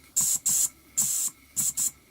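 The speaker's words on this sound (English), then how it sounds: "This whistle's not really a whistle, it just hisses." A restored Mamod toy steam engine's whistle lets out five short, sharp hisses of steam in an uneven rhythm, each lasting about a quarter second, heard close and alone against a quiet background.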